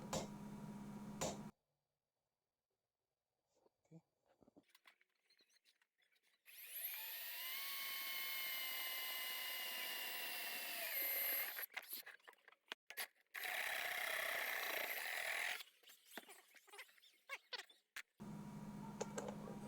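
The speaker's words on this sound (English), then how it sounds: "I marked, punched, and drilled the hole for the wiring to exit the strip." A drill boring a hole through a metal workbench outlet strip for wiring, with a sustained whining bite in two bursts separated by a brief pause, between stretches of near silence and small handling noises.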